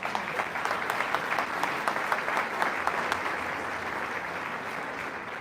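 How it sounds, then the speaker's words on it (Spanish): Steady audience applause at a religious question-and-answer gathering, sharp individual claps standing out in an even, moderately distant round of clapping with no talk. "Un aplauso pues por la hermana."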